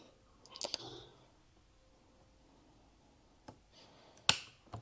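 Scissors snip through a structured crochet bag made of nautical cord, giving two crisp, quiet cuts, one near the start and one near the end, separated by near silence.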